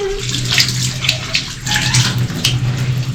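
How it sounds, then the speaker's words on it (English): Tap water pours steadily from a newly fitted sink fed straight from a tank at a rural Zimbabwe homestead as hands are washed under it, a close, continuous splashing rush that goes on without a break. "Cold and pull it off. Yeah. Wash my hands."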